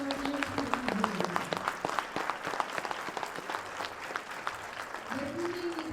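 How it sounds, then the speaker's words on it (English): An audience at an evening show claps in a steady, dense round of applause for the Marshfield Post-64 Military Museum, with a brief voice over the start and end. "please give a round of applause for the Marshfield Post-64 Military Museum"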